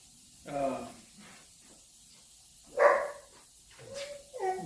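A young dog gives a few short whimpers and small yelps, close by in a quiet room with gaps between each sound.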